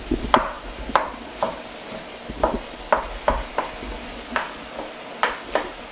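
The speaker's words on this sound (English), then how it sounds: "Just gonna get it in there and just start breaking it up." Ground meat being broken up in a large Cuisinart skillet with onions already sautéing, a rhythmic series of firm scraping knocks from the utensil against the pan, about a dozen strikes over a low sizzle.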